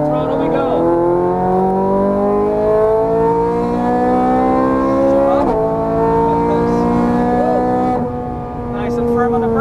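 A Ferrari 430 Scuderia engine howls at full throttle on a track, its rising pitch climbing steadily through the gears with brief shift breaks, loud and close throughout.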